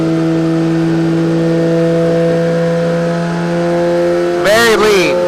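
A 2017 Suzuki GSX-R1000 engine runs on a dyno, holding a steady, loud, high-pitched tone, then briefly swoops up and down in pitch near the end as it is revved.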